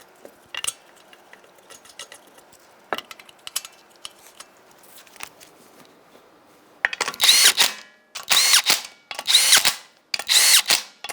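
A power tool tightens 21mm wheel lug nuts on a 2009-2014 Nissan Maxima, giving four loud, close bursts of rattling impact after a stretch of quieter clicks and handling noises.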